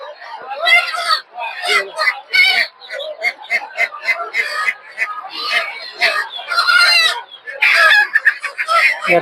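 Many chickens at a poultry market, with dense, close clucking, squawking and crowing in overlapping bursts while people talk among them.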